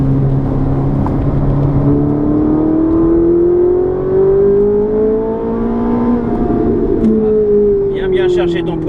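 A Ferrari F458 or Lamborghini Gallardo GT car in a stage sprint session at the Lohéac circuit, its engine droning loud and close throughout with a rising then falling pitch as it accelerates and eases off, while people talk over it.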